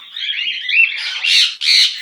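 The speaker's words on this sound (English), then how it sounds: "You are such a good bird." A pet bird lets out bright, close chirps followed by two loud, harsh squawks, alone with no talking.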